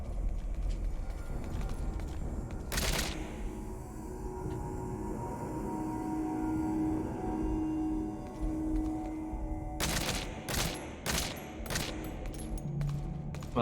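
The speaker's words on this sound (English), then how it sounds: "Wow, that was so many bullets." Gunfire in the Metal Gear video game: a sustained rumbling fusillade with a sharp burst near the start and rapid clustered shots toward the end, no speech over it.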